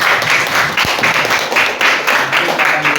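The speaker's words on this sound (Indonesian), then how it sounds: "Berikan aplaus untuk kelompok 1" Classroom audience applauding group 1, a steady burst of clapping from a small group lasting a few seconds, fairly close and loud, with a voice briefly audible underneath.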